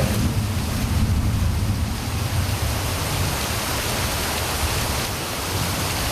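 Heavy rain pours down at night on a campsite in Central Java, a dense, loud, unbroken wash of noise with low rumbling gusts throughout.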